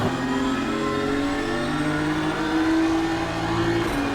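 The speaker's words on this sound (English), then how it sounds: "Complicated braking for Victor de la Fuente." Race car engine during a circuit race, a continuous loud mid-pitched drone with steady harmonic tones that shift slightly in pitch as the car brakes and accelerates, close and without talk.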